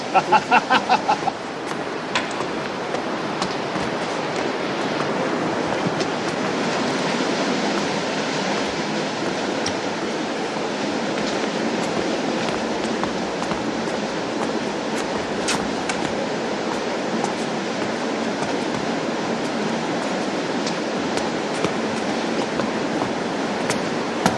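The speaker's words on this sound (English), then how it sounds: "We should walk in the water." People wade through sewer water, a steady, broad rushing and sloshing wash that fills the space continuously, with occasional louder splashes at the start.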